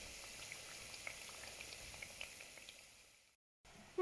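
Lisan tair pastries fry in hot oil with a soft, steady sizzle and scattered faint pops, quiet and close, cutting out abruptly for a moment near the end.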